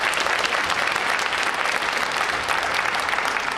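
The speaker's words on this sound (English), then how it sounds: "could you guys just join me in giving them a round of applause?" Audience at a county candidates event breaking into steady applause, dense continuous clapping from a crowd, loud and sustained throughout without pause.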